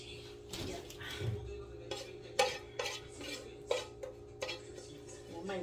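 Dishes being washed at home, with repeated clinks and clatters of cutlery, plates and pots knocking together in an irregular rhythm, fairly close and moderately quiet, with faint background hum.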